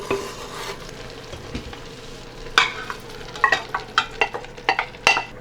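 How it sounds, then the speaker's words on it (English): Tomatoes tumble into sizzling beef in an Instant Pot for Chinese beef and tomato, bringing a low frying hiss and then a run of distinct clacks and scrapes from utensils against the inner pot. "Then I'm going to add all my tomatoes"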